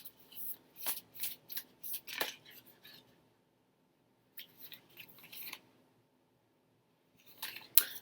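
A tarot card deck is shuffled close by in quick riffling bursts, a pause of near silence, then a few more soft card flicks and a brief rustle at the end.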